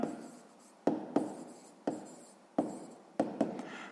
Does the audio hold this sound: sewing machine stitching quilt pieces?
no